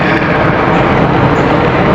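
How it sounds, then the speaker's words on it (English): Steady, loud broadband roar of an airplane passing overhead close to an airport, with the distant hum of a nearby highway blending in, continuous across the whole stretch with no talk. "You're gonna hear airplanes, you're gonna hear the 401 because I'm close to the airport"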